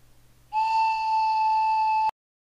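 A large handmade wooden whistle is blown in one steady, mellow tone held for about a second and a half, close and clear, then cut off sharply, with no talking.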